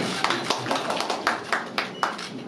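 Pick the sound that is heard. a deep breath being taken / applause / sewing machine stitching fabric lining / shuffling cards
applause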